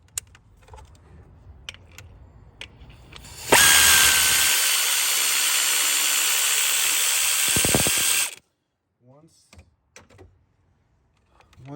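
A thread chaser tap is run into a damaged spark plug hole on a Ford 4.6, 5.4 or V10 engine, giving a loud, steady whirring, grinding stretch of about five seconds that stops abruptly, with quieter clicks and handling noises before and after.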